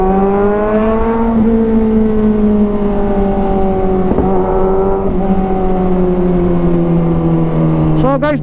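A motorcycle fitted with an AR exhaust revs up and then settles as the engine note slowly falls, loud and close, with a sharp rise in revs at the very end.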